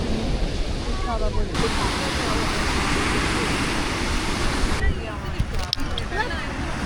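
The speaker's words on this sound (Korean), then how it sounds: "걷다 보니까 작은 해변이 나왔는데 여기 아, 아담한데 사람도 옹기종기 모여있어요." Waves wash steadily onto a small beach in Kochi, India, giving a continuous broad roar mixed with wind, while people talk nearby.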